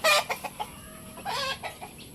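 Chickens clucking close by in short, uneven bursts, with a few sharper calls among them.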